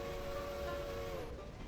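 A V&T Hooter locomotive whistle in the Railroader train game sounds one sustained, harmonically rich blast that cuts off after about a second, over a steady rumbling background.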